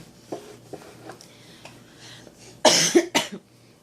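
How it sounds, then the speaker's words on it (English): Two sharp, loud coughs close together near the end, after a stretch of quiet low murmuring and faint rustling. "My cough is still here."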